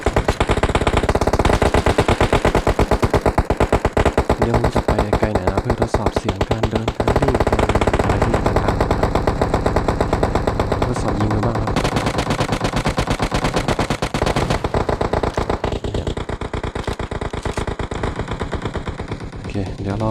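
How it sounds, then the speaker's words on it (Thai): Rapid, sustained bursts of automatic gunfire in a mobile video game crackle loudly and almost without pause, with brief shifts in intensity throughout. "คนพวกนี้นะที่เขายิง"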